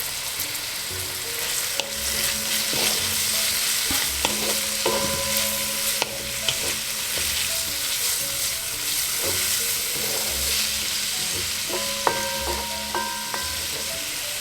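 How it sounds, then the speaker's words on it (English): Garlic frying in a pan for mackerel rundown: a steady close sizzle with frequent scraping and knocking of a utensil stirring, plus brief clinks, continuous throughout. "Right, so we've got our garlic."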